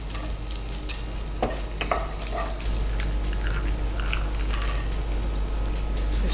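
Chana dal frying in hot oil for a tempering, a steady dense sizzle with a low hum beneath and occasional scraping stirs, close and continuous.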